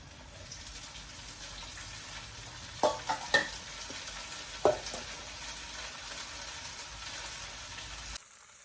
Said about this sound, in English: now we're sauteing it all together